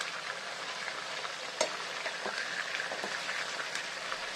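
Chicken pieces sizzle steadily in a hot pan for an Arabian-style chicken majboos, with a few soft clinks and scrapes as the pieces are turned one by one; no one speaks.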